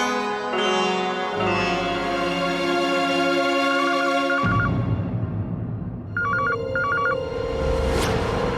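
Telephone ringing indoors amid background music, two distinct bursts of a trilling electronic ring a couple of seconds apart, clear and fairly loud.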